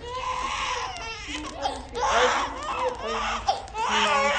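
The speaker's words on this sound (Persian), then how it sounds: "صدای گریه‌اش همین خونه رو بر نداشته" A baby cries and wails loudly and close by in a house, in long rising sobs with brief breaths between them, while adult voices talk over the crying.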